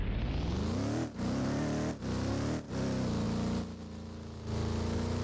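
A car drives across a frozen river in the Roblox game ERLC, its engine droning steadily and loudly with brief dips where the revs drop, and no talk over it.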